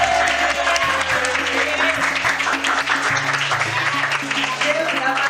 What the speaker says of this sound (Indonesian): kita tepuk tangan pada Nakil